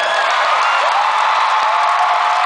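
A concert crowd at a show at the Bell Centre claps and cheers, a loud, steady wall of applause and whoops filling the arena without a break.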